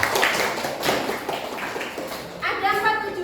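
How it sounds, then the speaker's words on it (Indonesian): A classroom of students claps their hands on a teacher's cue in an Indonesian lesson, a series of sharp, roughly regular claps, with a voice speaking over the end. "Terima kasih. Tepuk tangan."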